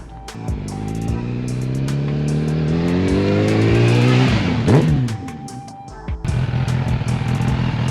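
Barn-find Suzuki Bandit 650S motorcycle with a freshly freed seized clutch, running under its own power: the engine revs up and rises in pitch, peaks and passes close by, then idles with sharp knocks afterward, with no talk.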